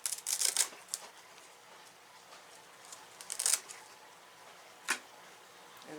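Clean clippers snip through the stem of a philodendron gloriosum plant during repotting, giving a few sharp, close cuts with quiet pauses between them.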